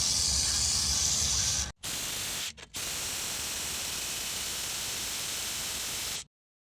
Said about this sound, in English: now I'm gonna go ahead and spray it with some penetrating fluid